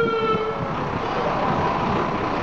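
Fire department trucks sounding their horns in a parade: a loud, sustained horn blast that sits over heavy, broad rumbling street noise, heard up close.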